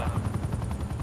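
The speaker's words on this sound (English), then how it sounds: "does it count with tech helicopter or no?" A helicopter in the Call of Duty: Cold War video game makes a rapid, chopping rotor pulse, loud and close, over a brief burst of game sound.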